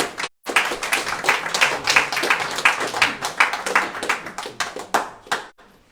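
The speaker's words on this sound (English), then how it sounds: "Waiting for you to stop clapping before I come up" An open mic night audience claps steadily for several seconds after a performer is welcomed, a dense, close patter of many hands that swells and then tapers off abruptly.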